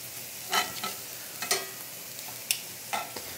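Mushroom steaks cooking in a pan with no oil give faint, quiet sizzling with a few sharp scraping stir sounds spaced across the short stretch. No one speaks.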